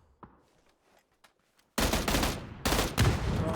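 Gunfire rings out in a video game shooter match: a few faint isolated shots, then two loud, dense bursts of rapid fire close by.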